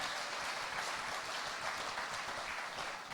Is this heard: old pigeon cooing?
no